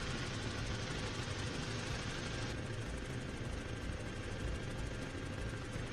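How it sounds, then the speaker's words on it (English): A helicopter in the Arma 3 video game drones steadily and loudly from inside the cabin, a dense continuous engine and rotor roar with no talk over it. "Helicopters are loud."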